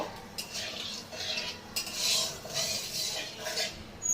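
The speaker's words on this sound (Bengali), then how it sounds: "এবার এটাকে একটু নেড়ে চেড়ে নেব।" A spoon scrapes and clinks around a pan in repeated stirring strokes, with a faint sizzle underneath, as whole spices and dried red chilies fry.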